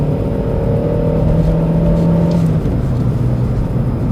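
An Audi A2 pulls in third gear with a steady engine drone that rises in pitch and then drops slightly, heard from inside the car, loud and continuous.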